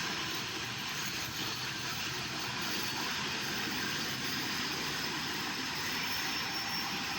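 A jet engine spooling up to ground idle gives a steady, distant, fairly faint broadband roar and whine that holds constant throughout, with no voices.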